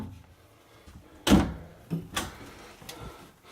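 Several sliding thumps and bangs of large storage drawers under a wardrobe slide in a 2019 Heartland Cyclone 4270 fifth-wheel toy hauler being pulled out and pushed shut, with one loud close followed by lighter knocks.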